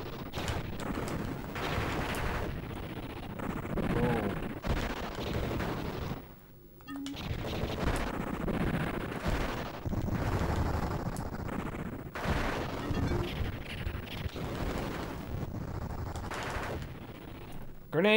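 Grenade explosions and dense gunfire from an NES/Genesis video game, a continuous rumbling barrage of blasts and rapid shots that briefly drops near the middle, with people talking over it.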